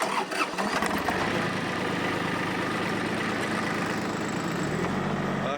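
A KUB tractor engine runs loudly and steadily up close as the driver shifts into second gear in a permaculture potato garden, a continuous mid-pitched rumble with no talking.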